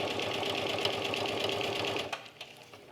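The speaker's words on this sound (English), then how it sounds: "now press our foot down, make sure I'm at a 1/2 inch seam allowance, and keep sewing to the opposite corner" Sewing machine running steadily and close up while stitching a half-inch seam on a cork fabric tote, then stopping with a few soft clicks near the end.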